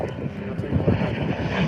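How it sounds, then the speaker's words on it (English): A propeller airplane flies over a hypercar racing event, a loud broadband engine drone that swells steadily as it approaches, with no talk over it. "Here comes the airplane."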